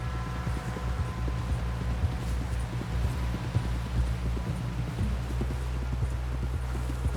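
Horse hooves clip-clop at a steady walking rhythm in Red Dead Redemption 2, the hoofbeats close and continuous over a constant low rumble of ambient game sound.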